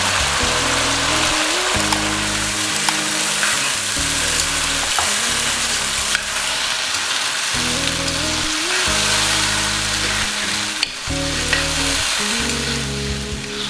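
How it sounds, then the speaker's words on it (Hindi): Chicken frying with spices and coarsely crushed chili in a pan for chili chicken dry, with a loud, steady sizzle and crackle throughout, broken by the scrape of stirring and a rhythmic musical backing underneath. "चिकन को फ्राई होने में मज़ीद इन मसालों के साथ।"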